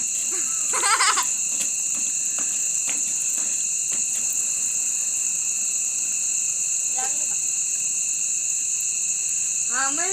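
Steady, dense chirping of night insects fills the whole clip, a constant high buzzing drone, with brief voices and a child's laughter faintly in the background.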